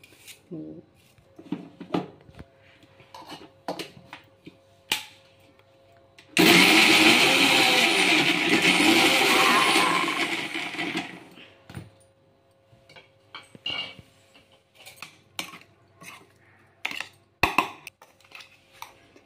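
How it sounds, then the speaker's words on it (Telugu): A mixer grinder grinding onion whirs loudly for a few seconds, then stops, with scattered clinks and handling noises before and after. "ఇలా అయితే మిక్సీ పట్టేసుకోండి"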